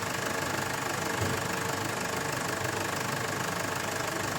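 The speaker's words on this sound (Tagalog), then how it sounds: "pakinggan natin kung totoo ang maingay itong makina" A Ford Everest engine idles on a morning start with the hood open, giving a steady, unbroken mechanical hum with a faint ticking texture and no voices over it.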